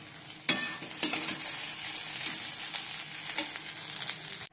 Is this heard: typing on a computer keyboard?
no